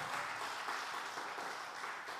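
Church congregation applauding, a brief continuous wash of clapping at moderate volume with no voices over it.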